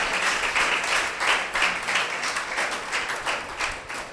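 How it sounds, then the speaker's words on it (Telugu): Congregation clapping at a church service, a steady, dense wash of many hands applauding together with rhythmic swells, fairly loud and continuous, no voices on top. "ఇక్కడ గట్టి కొట్టాలి, ఇంకా చప్పట్లు."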